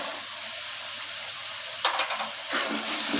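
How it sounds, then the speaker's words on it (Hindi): Peas and carrots sautéing in a pan for a mixed vegetable curry, a steady close sizzle with bursts of stirring and crackling near the end, no voices. "इसको भी हम 2 मिनट ऐसे हल्का सा भूनते हुए पका लेंगे"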